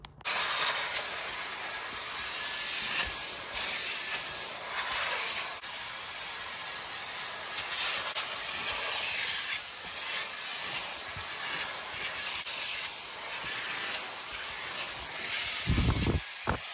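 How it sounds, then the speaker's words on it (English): A vacuum cleaner cleans the seats of a Tesla Model 3, running continuously with a steady high-pitched whine and hiss, nearby and constant, with a few brief bumps as it moves. "we're gonna vacuum everything out, make sure there's nothing in here"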